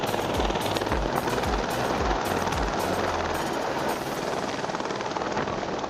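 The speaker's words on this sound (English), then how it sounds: "the pilot took the helicopter to a nearby pool and filled their bucket up" Loud, close firefighting helicopter carrying a water bucket, with rapid thudding rotor beats over a constant engine roar, the chopping pulses fading toward the end.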